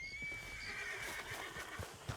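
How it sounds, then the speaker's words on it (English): A horse in Red Dead Redemption 2 whinnies with a long, high neigh, then hooves clip-clop closer in a quick uneven rhythm, faint and somewhat distant, with no talk. "Where's my horse? I hear him."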